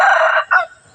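A rooster at a temple in Lampang, Thailand, near rice fields gives one loud, close crow that breaks off into a shorter second note, with no talking.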